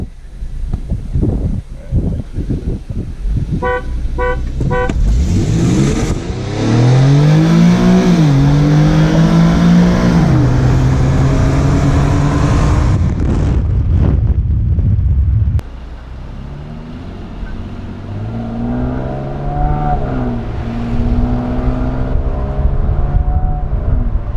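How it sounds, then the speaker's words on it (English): An Infiniti Q50 engine with new headers revs and drops in pitch as it rev-matches on downshifts, loud and close, with wind rushing past. "You can hear it rev matching on the downshifts."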